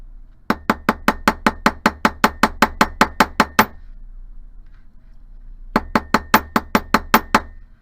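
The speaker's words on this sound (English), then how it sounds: "I'm going to go ahead and hammer these now, so once again, it's going to get loud for a minute." Metal hammer striking wire for a chevron pendant on a hard bench block: a rapid run of about eighteen sharp, even blows, a pause of two seconds, then another quick burst of about eight, loud and close.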